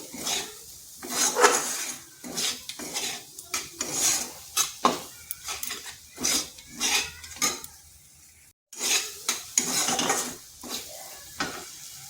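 A spoon stirs and scrapes masala in a pan while kundri curry cooks, giving repeated rhythmic metallic scrapes and clinks over a faint sizzle, close and fairly loud, with a short pause near the end.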